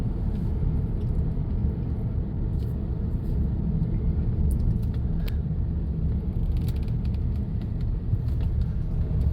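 Traffic rumbles along a road in a steady, loud low drone of passing cars, continuous throughout with occasional faint clicks and no clear talk.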